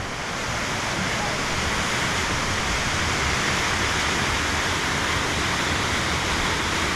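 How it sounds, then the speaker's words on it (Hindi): A waterfall in the Watkins Glen gorge in the Finger Lakes, New York: a dense, steady rushing roar of falling water, loud and close, constant for the whole stretch. "ये दूसरी वाटरफॉल।"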